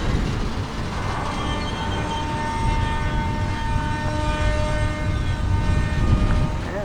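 A CSX double-stack freight train rumbles steadily at a road crossing, a continuous loud low roar with faint tonal whine and no break from start to finish.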